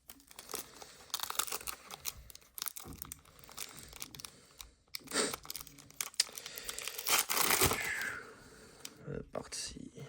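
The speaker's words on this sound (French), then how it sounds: "nous allons ouvrir ce fameux pack" Foil Panini Donruss 2025 trading card packs being torn open and crinkled by hand, close and bursty rustling and ripping in several short spells, with a voice talking over parts of it.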